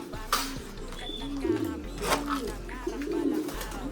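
Pigeons coo close by in a coop, a few soft low repeated hooting calls with rustling and short bursts of other noise around them.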